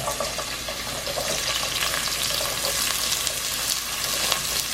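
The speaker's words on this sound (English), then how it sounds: "And I'm now gonna add in the onions and garlic." A whole small onion and about four cloves of garlic hit hot oil in a pan, giving a steady, close crackling sizzle with brief spattering bursts throughout, no voices.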